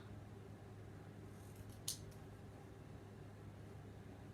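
Scissors trimming the paper wings of a classroom rocket model, a single quick snip heard faintly over a steady low room hum.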